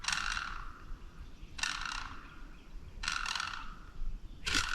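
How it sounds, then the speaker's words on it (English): A wild Osceola turkey gobbles four times at a distance in a South Florida swamp, each gobble a short rattling burst separated by pauses of about a second. "He's gobbling a bunch"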